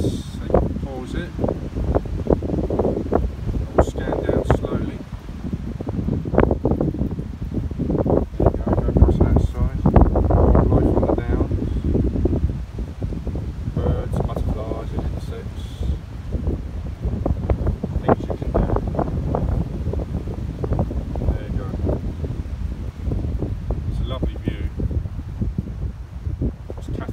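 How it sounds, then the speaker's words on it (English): Strong wind buffets the microphone outdoors near disused chalk pits on an extremely windy, wet day, a continuous low rumbling roar that swells and fades throughout, heavy around nine to eleven seconds. "it's extremely windy today"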